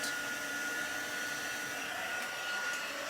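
A hair dryer blows steadily on a watercolour painting to speed its drying, a constant close whooshing hum with no breaks throughout.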